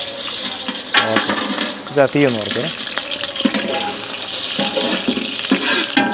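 Whole spices dropped into hot ghee for fried rice, crackling and sizzling steadily in the pan, with a clatter of utensils and a voice speaking briefly over it.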